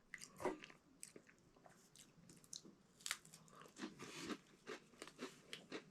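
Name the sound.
eating crackers with peanut butter from an old army ration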